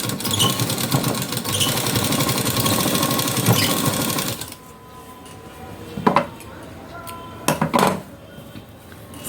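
A sewing machine runs at a steady whirring hum while stitching the front panel of a blouse, then stops; afterward come a few close metallic clicks and clatters of handling.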